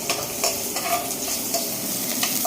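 Ginger dropped into chopped garlic frying in a little oil on a strong stove flame, a continuous close sizzle with light stirring scrapes and small clinks, no talking.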